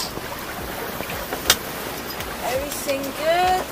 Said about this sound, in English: The wind come and go, but the big swell is incredible.